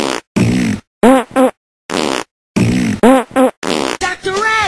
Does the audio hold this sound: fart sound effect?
yes